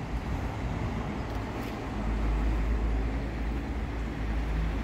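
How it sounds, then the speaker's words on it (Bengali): Lucerne railway station in Switzerland on a morning, a broad wash of ambient noise with a low rumble of trains and traffic swelling slightly midway. No voices are heard. "এটা হচ্ছে এখানকার রেলওয়ে স্টেশন লুসার্নের।"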